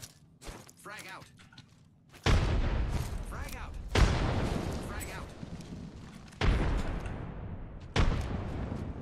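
Frag grenade blasts in the Apex Legends video game: several loud booming explosions a couple of seconds apart, each with a long rumbling decay, following a brief stretch of quieter game sounds and voices.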